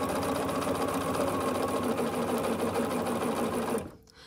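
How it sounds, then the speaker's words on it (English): A sewing machine stitching quilt fabric for flying geese blocks, a fast, steady mechanical whirring hum close by that runs for several seconds, then stops abruptly. "And then we just sew this through."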